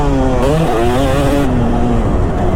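A 2005 Kawasaki KX250 two-stroke dirt bike being ridden, its loud, close engine buzzing and rising and falling in pitch as the throttle opens and eases off.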